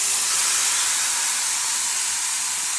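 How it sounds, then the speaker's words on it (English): Brisket searing in a hot cast iron skillet, a loud, continuous close-up hiss of sizzling fat that holds steady throughout. "Now add the brisket into the hot cast iron skillet"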